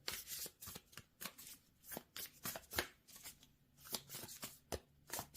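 A deck of tarot cards is shuffled by hand in repeated quick riffles and slaps, a crisp rhythmic fluttering that is close, quiet and alone.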